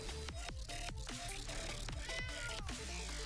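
A cat meows when its card is played in the MtG Arena video game, several short game-sound cries repeating over steady background music, with no talk.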